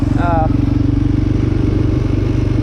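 A Yamaha Raptor 700R sport quad's single-cylinder engine thumps loud and close at a steady throb while riding from low desert toward the mountains, a rapid even pulse with a brief voice over it at the start.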